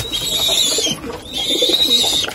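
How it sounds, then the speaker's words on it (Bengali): Pigeons coo in two sustained phrases with brief pauses, fairly close and steady, over a light background of rustling. "এই যে আমার কবুতর"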